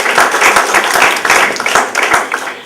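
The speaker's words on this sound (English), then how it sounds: "Let's give a round of applause for 22 NGOs." Audience at a Malaysian NGO report launch giving a round of applause, loud close clapping with distinct individual claps pulsing through a dense wash, ending after a few seconds.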